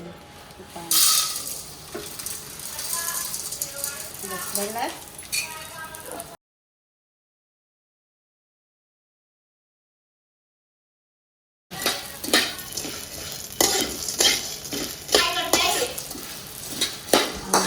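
Methi ladoo ingredients, fenugreek, poppy seeds and edible gum, are roasted and stirred in a pan, with scraping, clinking and light sizzling close by while people talk. A silent gap breaks the sound midway.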